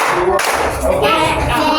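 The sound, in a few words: children clapping the 'tepuk siang' clap pattern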